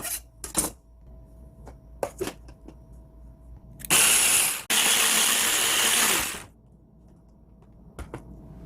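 An electric food chopper grinds mushrooms, onion and other vegetables in two loud bursts of steady whirring, one short and one longer, set apart by scattered clicks and knocks.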